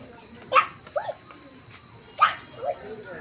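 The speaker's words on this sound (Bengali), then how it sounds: "কুকুরটাকে তাড়িয়ে দাও" A dog outdoors gives a few short yips and whimpering barks in two brief bursts, fairly close, while people talk nearby.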